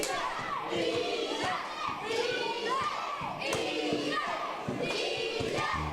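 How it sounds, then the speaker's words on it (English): A wrestling show crowd cheers and shouts in loud swelling bursts, with thuds from the ring and excited voices rising and falling throughout. "And this crowd loving this one."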